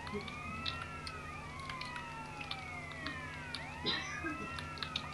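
A wailing police car siren in SA-MP, the multiplayer mod of GTA San Andreas, sweeps up and down repeatedly at moderate distance over a steady engine drone, with occasional faint clicks and knocks.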